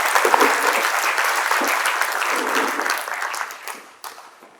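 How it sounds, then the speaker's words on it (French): Many hands clap in a conference hall as a representative is welcomed at a district conference opening, a loud, sustained round of applause that gradually thins and fades out toward the end. "Vous pouvez applaudir."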